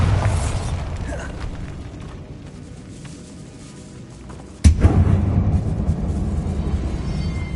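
Bombarda blasting spell in the Hogwarts Legacy video game goes off in a catacomb: a single sudden, loud explosive boom after a quieter stretch of low rumbling ambience, followed by a sustained heavy roar and crackling debris.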